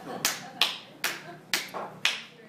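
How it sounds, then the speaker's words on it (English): Sharp hand claps at a roast held at a Thai restaurant, five loud, separate slaps spaced about half a second apart in an indoor room, without the build of a full round of applause. "now we're clapping because we're all drunk"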